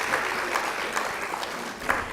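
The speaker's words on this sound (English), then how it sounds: "Give Claudette another round of applause for this very generous gift she has given us." Audience clapping at an awards gala, a brief burst of steady, moderately loud applause from a crowded room.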